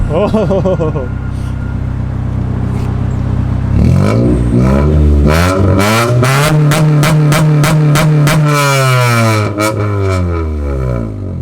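An Acura Integra engine revs hard and holds against a two-step launch limiter, firing rapid rhythmic popping bangs from the exhaust, loud and close.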